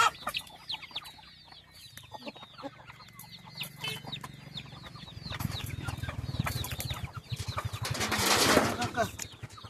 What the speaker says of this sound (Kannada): ಒಂದು ಕೋಳಿ ಅಡ್ಡಾಡಕತ್ತದ್ರಿ.